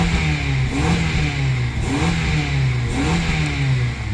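A 2004 Honda Accord engine, just repaired after a no-start fault and ignition coil work, revs up and down in loud, close swells over a steady mid-pitched running drone.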